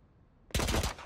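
Sova shooting a recon dart in Valorant, one sudden loud close burst after near silence, with a quick rattling texture that breaks off right after the shot.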